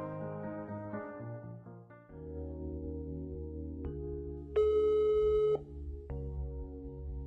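Telephone busy signal in a video game story scene: a steady repeating beeping tone over soft background music, loud and close, lasting about a second before the music carries on alone.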